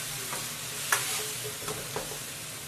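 Tofu skin with green and red peppers, garlic, ginger and scallion stir-fried in a wok: steady close sizzle with a few sharp spatula scrapes and tosses, no voice.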